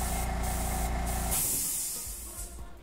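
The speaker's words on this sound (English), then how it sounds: "I can really kind of tell by how it sounds, how my gun airbrush sounds" An airbrush gun sprays paint onto custom cornhole bags with a steady, close hiss of pressurized air that changes tone partway through and then thins into a softer, uneven spray.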